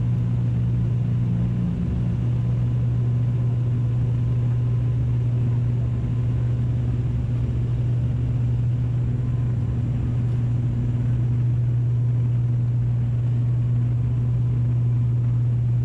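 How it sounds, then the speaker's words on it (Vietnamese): A steady, low cabin rumble and hum of an ATR 72 airplane landing at Con Dao in bad weather drones continuously, with no talking. "Máy bay đã chuẩn bị đáp xuống sân bay."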